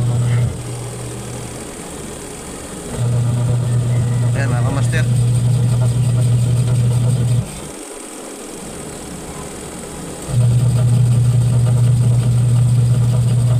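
A Sharp washing machine's wash motor, which spins weakly, hums loudly in on-and-off stretches, a steady low drone that stops briefly and restarts, with someone talking briefly over it.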